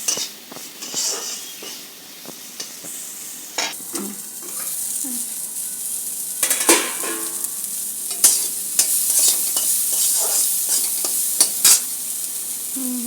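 Pumpkin seeds frying under a lid on very low heat: a soft, steady sizzle with occasional crackles, light pops and stirring clatters, close and without talk.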